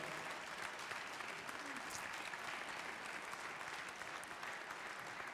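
An audience at the Cuisines en Scènes cooking contest gives sustained applause, a dense even patter of many hands clapping steadily throughout.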